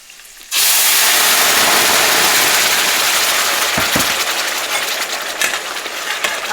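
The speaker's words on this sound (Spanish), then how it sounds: "Ahora le vamos a guisar la salsa" Green salsa hitting a hot pan for chilaquiles, a sudden loud sizzle that bursts in and holds as a dense frying hiss, easing slightly with a few faint clinks, no talking.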